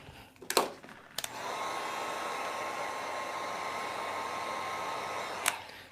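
A heat gun blows a steady, loud whooshing roar while warming leather vinyl wrapped on a gun safe, starting after a couple of clicks and running unbroken for several seconds before cutting off.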